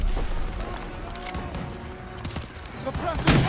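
Gunfire in Call of Duty World War 2 during the Battle of Marigny, a continuous rattle of rapid shots and cracks with a louder burst near the end, mixed with battle noise and voices.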